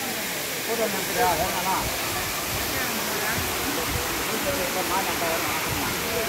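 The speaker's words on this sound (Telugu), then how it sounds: "జలపాతం చూసారు ఎంత అద్భుతంగా ఉందో." Steady roaring rush of a hillside waterfall near the Kailasanatha Swamy temple fills the whole stretch, broadband and constant, with faint voices murmuring underneath.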